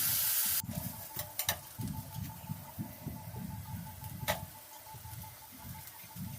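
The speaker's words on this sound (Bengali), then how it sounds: "ডালিয়াগুলো দিয়ে ভালো করে নেড়েচেড়ে" Dalia fries in a pan with carrot, onion and nuts while being stirred, a quiet sizzle broken by soft rhythmic scraping and a few sharp clinks of the spoon.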